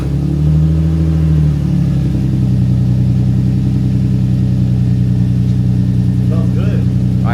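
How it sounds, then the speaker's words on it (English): Lexus IS300 engine cold-starting with a newly installed aftermarket exhaust, a steady loud low rumble that rises briefly early on then settles into an even idle drone throughout. "Now we're gonna get the first cold start"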